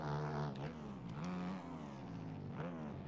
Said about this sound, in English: I love the rev limiter on this thing.